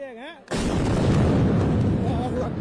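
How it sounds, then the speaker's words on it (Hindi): A sudden loud blast from a drone attack after a brief tonal sound, followed by a long rumbling roar and debris-like noise that stays loud to the end. "लेकिन यह धमाका आप देखिए टारगेट के बाद"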